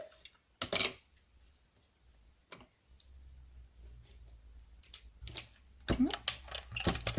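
Sparse mechanical clicks and rattles of a hand-cranked die-cutting machine, quiet between bursts, with a cluster of clacks near the end.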